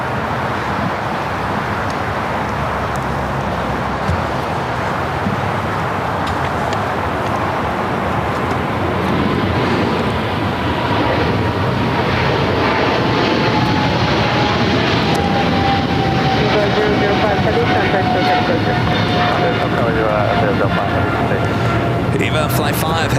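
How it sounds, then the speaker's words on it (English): An EVA Air Boeing 777-300ER jet departing LAX for Taipei, a heavy continuous engine rumble rising in strength over time with a faint whining tone sliding downward, mixed with distant road traffic. "Eva Flight 5 heading back to Taipei in the 777-300ER"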